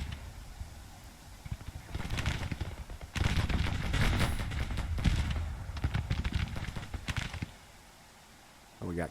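Soldiers firing in the video game Grand Tactician, with bursts of crackling gunfire and volleys coming in several waves that swell, fade and return, mid-distance and fairly loud.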